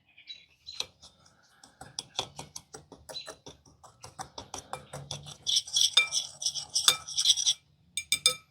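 A utensil stirs spices and brown sugar in a bowl with scraping, clinking strokes in an uneven rhythm, growing busier and brighter toward the end, close and without talk.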